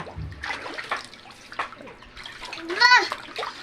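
Water sloshing and splashing in a plastic basin filled from a hand pump as a child is rinsed in a backyard, soft irregular splashes under a voice and talk, with a brief louder splash near the end.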